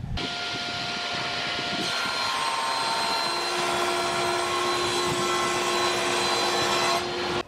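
A table saw fitted with a 50-tooth blade rips wooden boards to width for a bathroom cabinet, a loud steady high whine that runs continuously for several seconds and then cuts off abruptly.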